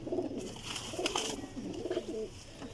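Pigeons at a breeder's loft coo in soft, low rolling phrases that repeat continuously at close range over light background noise, with no talking.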